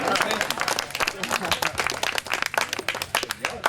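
Wedding guests at a beach resort in Negril, Jamaica, clapping steadily in a dense, moderately loud burst of applause that keeps going for several seconds, with voices and cheers mixed in.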